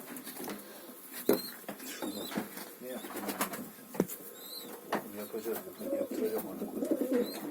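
Arab pigeons cooing softly amid rustling and fluttering, with faint voices talking in the background.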